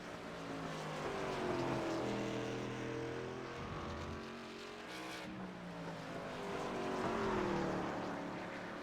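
Race cars circling an oval track, engines swelling and fading as several cars pass, with a loud roaring drive-by midway and another rising howl near the end, no voices.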